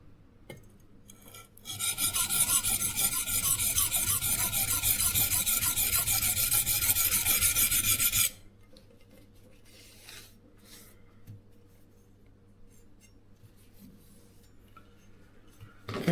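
An IKEA Fjällröding santoku knife drawn across a Sharpal whetstone produces a loud, harsh, continuous rasping scrape for about six seconds. Quieter handling sounds follow.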